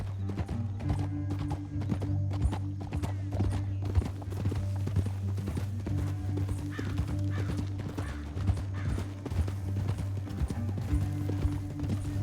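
Steady clip-clop of horse hooves trotting continuously in Red Dead Redemption 2, with an occasional whinny and low rumbling ambience behind the hoofbeats.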